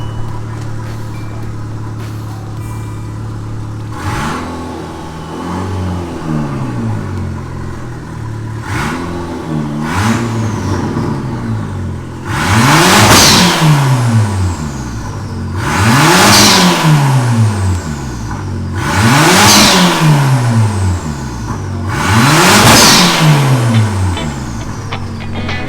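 A turbocharged Ford Ka engine, freshly fitted with a swapped ECU, idles and then revs up in four strong, rising and falling bursts, each climbing loudly and dropping back to a steady, close idle.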